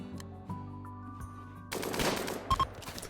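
Burst of light machine gun fire in the RimWorld video game, a dense cluster of rapid shots that erupts partway through over a low steady game backdrop, followed by a couple of sharp louder cracks.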